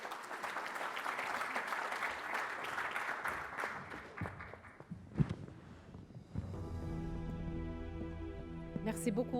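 An audience at an African conference applauds after a speech, a steady wash of clapping that thins out midway, then gives way to music with a voice over it.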